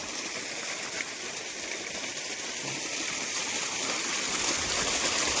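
Water running out steadily as jeevamrutha, a homemade liquid manure, is released with irrigation water into a farm field without drip lines, a constant close rushing and gushing flow with no breaks and no voices.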